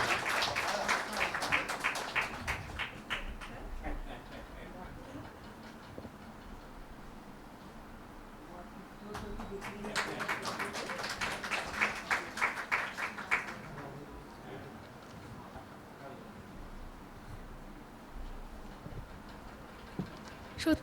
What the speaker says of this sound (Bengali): জোরে আরেকটু করতালি হয়ে যাক।